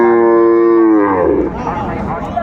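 A cow moos loudly and close at a cattle market in Raniganj, with calves nearby; one long drawn-out call that breaks off into rougher noise near the end.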